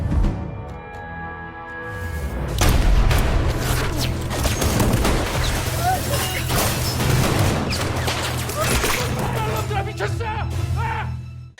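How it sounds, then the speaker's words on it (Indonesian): A film gunfight erupts into rapid, overlapping gunshots and heavy impacts, loud and chaotic bursts of fire over a low rumbling bed that keep going for about ten seconds. "Dalam aksi adu bedil barusan, kaki kanan John harus terluka"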